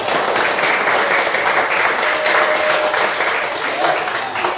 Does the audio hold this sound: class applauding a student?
yes